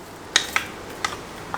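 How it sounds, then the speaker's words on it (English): Four sharp, bright metallic clinks ring out at irregular intervals, close and fairly loud, as diced potatoes are dropped into a cooking pot for an oil-free rice, lentil and vegetable khichdi; no one talks. "Potatoes, diced potatoes go in."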